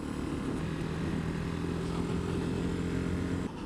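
A KTM 390 Adventure single-cylinder motorcycle engine holds just over 4,000 RPM in fourth gear, a steady, even, loud drone close to the rider that stays level throughout.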